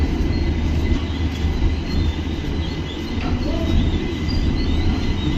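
A train at Silchar railway station gives a loud, steady low rumble with faint metallic wheel squeals, heard close and continuous with no talking.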